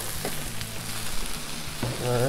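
Plenty of vegetables sizzling in freshly added oil on a hot cooking surface, a steady, loud crackling hiss throughout with a few clanks of a utensil.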